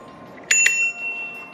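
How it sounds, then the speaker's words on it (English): A new bicycle bell on a Dragon Raptor bike rings twice in quick succession, bright and close, leaving a short metallic ring that fades over a faint background hiss. "we've got the bell"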